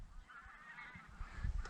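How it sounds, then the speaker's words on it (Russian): A huge flock of geese flies very high overhead, honking continuously in a faint, distant chorus against low wind and background rumble. "Огромная стая гусей."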